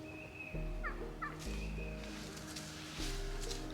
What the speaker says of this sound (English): That's a lot of turkeys.